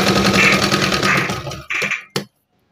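A sewing machine stitching pieces of a bedsheet together, a fast steady whirring that runs for about a second and a half, then stops and starts in two short bursts before falling silent.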